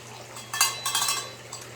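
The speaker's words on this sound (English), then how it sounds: "you picked the Oshun bell." An Oshun bell rings a few times in a quick cluster, with bright metallic clangs close by over a low background hum.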